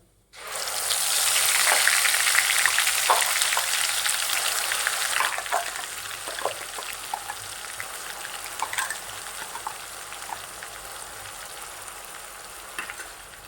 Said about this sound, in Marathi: याच्यात आपण अर्धा चमचा जिरे घातलेला आहे आणि मिक्सरमधनं बारीक केलेलं वाटण